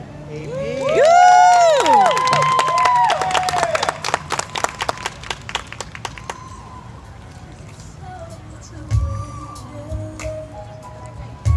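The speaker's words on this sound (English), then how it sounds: "Can we give him another round of applause?" Children and adults at an anti-bullying rally cheer loudly with high shouts, then sharp scattered claps ring out and taper into thinner clapping and murmuring.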